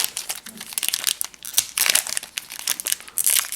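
A crinkly Magic: The Gathering Theros booster pack wrapper being torn and crumpled, continuous loud close crackling with sharp rustling bursts throughout.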